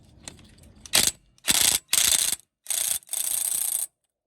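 A 3/8-inch ratchet fitted with a 1/2-inch adapter and a 19 socket clicks loudly in four or five separate bursts, close up, while working on the brakes of a third-generation Toyota Tacoma.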